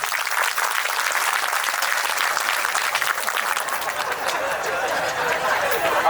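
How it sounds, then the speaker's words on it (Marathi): Dense audience clapping at a Marathi devotional kirtan honoring Vitthal fills the room for about six seconds, steady and loud with a faint murmur of voices underneath. "म्हणून विठ्ठल नामात टाळी वाजवली पाहिजे"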